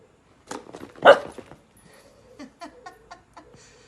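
Dog barking excitedly during a play session with a marshmallow catapult, two loud sharp barks followed by softer yips and whimpers, close by with no speech.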